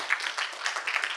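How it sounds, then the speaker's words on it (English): An audience claps for a conference panel, with a brief burst of steady, dense applause that stays fairly even and moderately loud. "I want to give a big applause to our panels"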